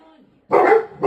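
Dogs bark in a loud, close burst after a brief lull, with a second bark starting right at the end; a faint voice sits underneath in the opening moments.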